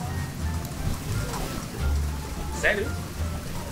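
Rain patters steadily on surfaces in the background, soft and continuous beneath people talking nearby.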